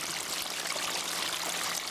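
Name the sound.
backyard waterfall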